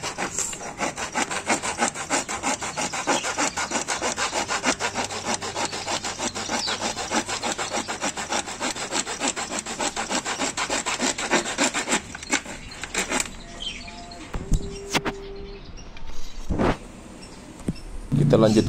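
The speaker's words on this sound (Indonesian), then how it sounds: "Lalu sisi sebelahnya kita gergaji juga supaya bentuknya lebih rapi." Hand saw cutting back and forth through a wooden broom handle, trimming the other side for a parrot perch, with a steady rasping rhythm that runs for most of the clip before trailing into clatter and handling noises.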